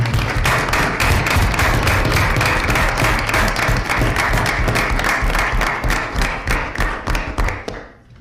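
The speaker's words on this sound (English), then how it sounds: "Can we ask our athletes to stand up and just have one final round of applause for you all?" Sustained applause from a room of people at a school board of education meeting honoring athletes, dense steady clapping that holds loud for several seconds before thinning and fading out at the end.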